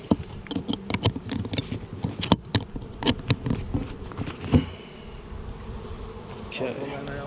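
Honeybees at a beehive in North Queensland, Australia: a dense buzzing swarm hums close by, with frequent bumps and taps against the hive box in the first half, then a quieter stretch.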